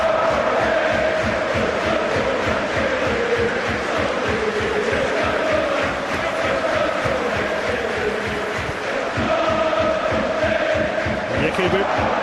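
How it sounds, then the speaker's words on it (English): A packed stadium of West Brom Albion football supporters roars and chants without pause through a match against Everton, a dense, loud wall of crowd noise with rhythmic chanting, while a commentator speaks over it. "the crowd keep this up all season. They're going to have sore throats"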